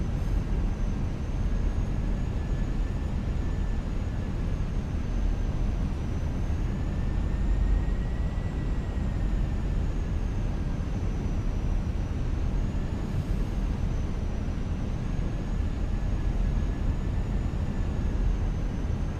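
A Fenix A320 airliner on final approach in Microsoft Flight Simulator: a steady, loud cockpit drone of engine and airflow with faint whining tones, continuous and unbroken throughout.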